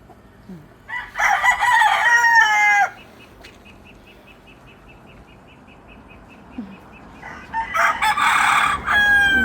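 A rooster in a small backyard chicken coop crows twice, each crow long, loud and close, with quiet clucking and faint scratching between the calls.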